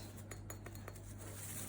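Glass propagation vases clink and chink together in quick light taps while being unpacked from a well-packed box, a handful of small close knocks over a faint steady hum.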